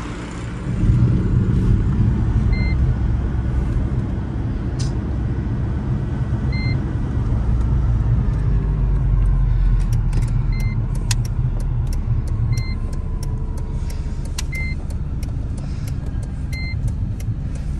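A Mercedes SLK 200, a small low-slung convertible, drives along steadily, its engine and road noise a constant close rumble throughout, with occasional short electronic beeps.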